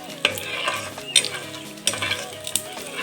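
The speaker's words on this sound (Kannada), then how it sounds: "ಎಣ್ಣೆಯಲ್ಲಿ ಚೆನ್ನಾಗಿ ಫ್ರೈ ಮಾಡ್ಕೋಬೇಕು" Peanuts frying in hot oil for a flattened-rice dish, a soft steady sizzle broken by a few sharp spatula scrapes and stirs against the pan, close by with no talking.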